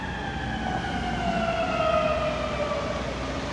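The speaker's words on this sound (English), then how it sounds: "We had an ambulance cruising down the street, down Washington Avenue." An ambulance siren moves along Washington Avenue on a Monday morning. Its sustained tone rises and then falls in pitch as it passes at moderate distance, over steady street background noise.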